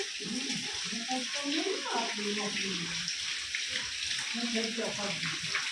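Rainwater runs and trickles steadily through farm fields after heavy rain, a soft continuous wash of water heard under people talking in Gujarati.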